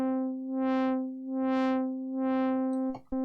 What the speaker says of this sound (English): so now the LFO is going into the filter cutoff,